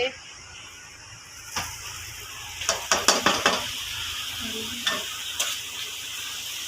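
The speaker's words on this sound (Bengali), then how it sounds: "লুচি ভাজছে মা" Luchi flatbread deep-frying in hot oil gives a steady close sizzle, broken by a quick run of sharp utensil clinks and taps near the middle.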